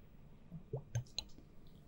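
Quiet, close-up wet drips and soft plops, a few scattered liquid drops and tiny squishy pops against a hushed background.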